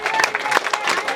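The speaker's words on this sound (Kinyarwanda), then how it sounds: "Amashyi menshi cyane." Wedding guests at a Rwandan church ceremony applaud and cheer after the couple exchange vows, a dense, bright wash of clapping and crowd noise, lively and fairly close, with voices mixed in.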